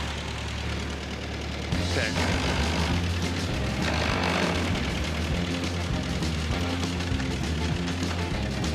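A cracked, badly worn Ford 8N tractor engine runs steadily at close range, a low rumbling idle with some knocking texture, and a voice speaks briefly over it.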